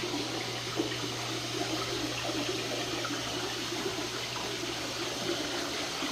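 Water drains steadily from a fixture during routine maintenance with no plug in place, a continuous close rushing trickle with a low hum beneath and no talking.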